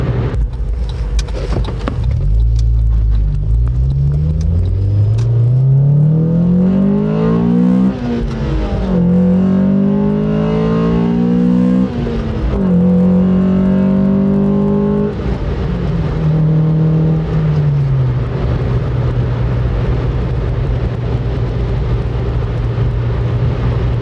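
2000 Honda Civic Si manual, Canadian-spec EM1, engine revving high on the highway around 4,000 RPM, loud whining pitch climbing through gears with rising and falling sweeps under steady wind and road noise.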